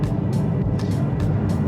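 DS 3 Crossback E-Tense electric SUV gliding along a road, a steady, fairly loud broadband rumble of tyre and wind noise with a few soft swells and no engine note.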